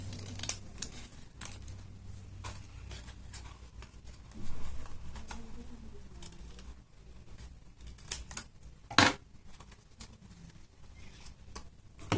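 Scissors snip through paper while a paper mask inspired by Dr. Doom is cut, giving a close, quiet series of small clicks and crisp cuts with one sharper snap near the end.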